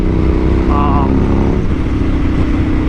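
A Suzuki SV1000S motorcycle engine while riding, a loud steady drone and rumble with wind rush throughout, under a rider talking.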